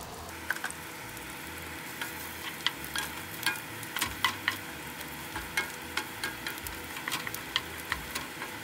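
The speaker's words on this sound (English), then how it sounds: "I'm gonna add 1/4 of chopped onion to my meat and let it cook" Chopped onion and meat sizzling in a frying pan for charro beans, a steady soft crackle with repeated clinks and scrapes of a spoon stirring throughout.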